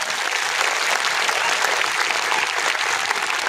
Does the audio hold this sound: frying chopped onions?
no